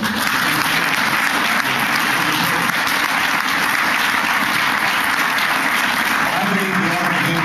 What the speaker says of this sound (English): Join me just in a round of applause.